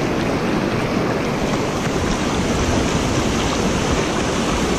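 Water pours steadily over a spillway in Brady's Run Park, Beaver County, Pennsylvania, making a loud, continuous broadband roar close to the microphone, alone and without any talk.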